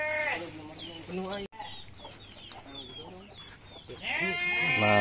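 Goats bleat loudly and repeatedly while waiting for feed on a livestock farm, with overlapping calls from several animals, a brief cutoff, then more bleating close by.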